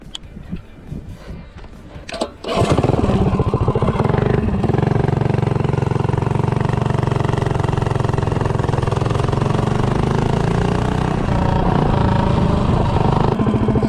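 A Predator 212 small engine with a standard-length intake revving hard during a 0 to 30 run, starting with a quiet, clattering lead-in before a sudden loud roar that holds steady and close for the rest.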